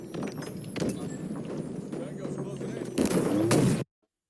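Rapid gunfire from the Halo Infinite first-person shooter, with rattling shots, a loud close burst near the end and then sudden silence.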